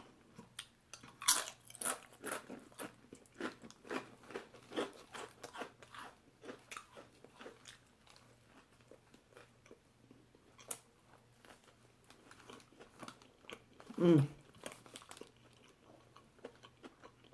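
Crunchy bites and chewing of a Subway Italian BMT sandwich, close and quiet, with steady repeated crunches over a low hum and one louder bite near the end.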